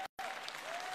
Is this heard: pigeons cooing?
no